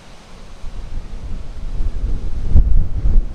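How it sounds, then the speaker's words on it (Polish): Gusty wind buffets a microphone, a low roaring rush that swells louder toward the end. "Wieje."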